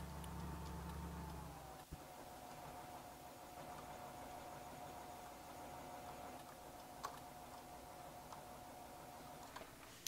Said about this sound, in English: I like the sound of this pickup though.